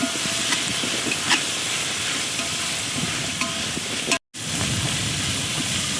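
Onions with turmeric powder fry in a pan, giving a loud, steady sizzle and hiss with light stirring scrapes that drop out in a brief gap near the end.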